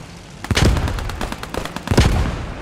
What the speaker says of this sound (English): Grenade came over to us.